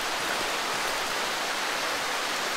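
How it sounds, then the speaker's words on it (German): Rain falls in the horror video game Darkwood as a dense, even hiss of steady downpour that holds at a constant level throughout, with no voices over it. "Scheiß Regen."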